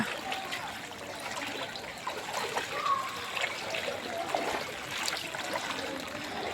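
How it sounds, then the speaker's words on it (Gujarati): Floodwater standing knee-deep inside a village milk dairy, giving a steady, soft trickling and sloshing wash of water throughout, fairly faint and with no voices. "ઘૂંટણસમાં પાણી ડેરીની અંદર ભરાયા છે।"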